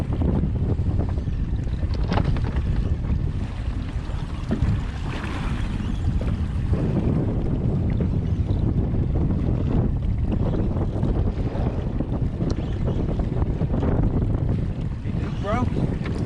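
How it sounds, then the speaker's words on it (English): An offshore fishing boat out after blackfin tuna pounds through big waves, with heavy wind buffeting the microphone and a constant roar of rushing water and hull noise throughout. "Big waves."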